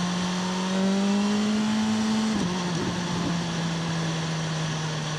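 A BMW M1000R motorcycle engine while riding, a sustained tonal drone climbing slightly in pitch, then dropping after a gear change, steady and fairly close with no talk.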